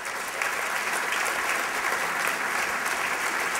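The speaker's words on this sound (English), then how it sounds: "Please give them all applause." Steady applause from a conference audience at the close of a panel discussion on federal policy toward plug-in vehicles, dense and continuous throughout with no talk over it.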